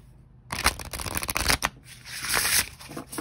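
Tarot-style oracle cards shuffled by hand in a few quick riffling bursts, crisp and close, with no talking.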